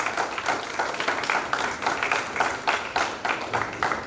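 Rhythmic applause from a seated audience at a Hindi-Urdu poetry gathering, steady hand claps rising and falling in waves across the whole stretch with no talk over it.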